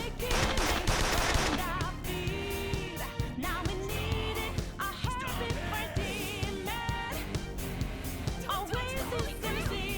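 Gunfire rings out during a battle in Persona 5 Royal, bursts of rapid shots mixed with game music, chimes and combat effects, dense and loud throughout, while voices speak over the action.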